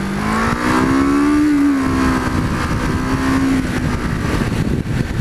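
A 2006 Kawasaki Vulcan 500 motorcycle engine revs up loud and close, its pitch climbing steadily, easing off and then holding a steady drone under heavy wind and road roar, with no one talking.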